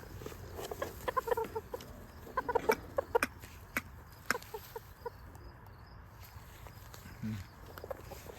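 Small adult roosters and hens in a backyard coop in Sydney, Canada cluck and squawk in scattered bursts at close range, with some shuffling footsteps and a little faint talk.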